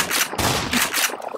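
Rapid bursts of shotgun fire in the first-person shooter Black Mesa, several loud blasts in quick succession with brief gaps, close and dominant.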